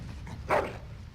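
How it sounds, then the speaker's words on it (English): Dog in the video game Dragon Age: Origins giving a single brief whimper, moderately close, over a low ambient game background. "Bloody dog."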